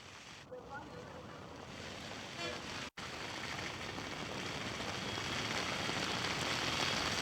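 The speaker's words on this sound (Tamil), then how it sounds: "சேலம் மாநகர் மற்றும் அதன் சுற்றுவட்டார பகுதிகளில் 1 மணி நேரத்திற்கும் மேலாக கனமழை பெய்து வருகிறது." Heavy rain pours over Salem city as a steady, dense hiss that stays loud throughout, with a brief break near the three-second mark.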